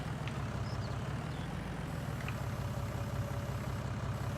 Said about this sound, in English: Come on, go forward, little tractor. You've got the power.